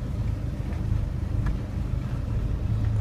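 A 1993 Nissan truck that had been stalling in gear pulls away, a steady low engine and road rumble with some wind buffeting heard from inside the cab, fairly loud and continuous, no talking.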